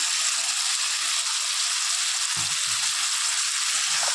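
Poppy seed paste frying in a pan, giving a steady, loud sizzle that continues unbroken throughout, with a few soft low knocks partway through.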